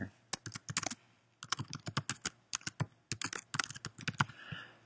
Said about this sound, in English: type this in again here